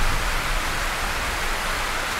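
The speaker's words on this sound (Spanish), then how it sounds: "Ostras, viene la lluvia." Dense, steady rain hiss fills a Titanfall 2 match, a loud unbroken wash with no distinct drops or voices.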